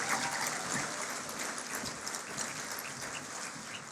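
Steady applause from a gala audience at a teacher of the year awards ceremony, a dense, even wash of clapping that holds for the whole stretch with no voices over it.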